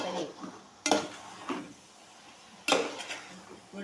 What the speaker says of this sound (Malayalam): എല്ലാ സാധനവും ചേർത്ത് ഇങ്ങനെ നല്ലപോലെ ബീഫ് ഫ്രൈ ഉണ്ടാക്കാൻ വേണ്ടി നല്ലപോലെ ഇളക്കി വഴറ്റി